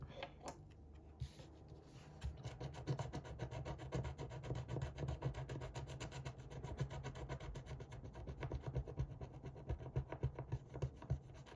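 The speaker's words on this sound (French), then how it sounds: "Et on va gratter ça." Steady, faint scraping rub that keeps going without a break, like a coin or fingernail working across a surface, heard close and alone with no voices.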